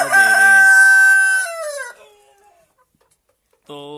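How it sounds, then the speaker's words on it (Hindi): A desi rooster on a Golden Misri hen farm in Pakistan crows loudly and close, a long strained call that trails off, followed after a pause by the start of another clucking or crowing call. "हमारे देसी मुर्गे बिल्कुल इस वक्त तैयार हैं और अंडा दे रहे हैं।"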